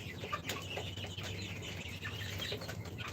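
Ready-to-lay hens, 47 days old, cluck at a poultry farm, with soft overlapping clucks and brief wing flaps over a low steady hum, fairly quiet and without talk.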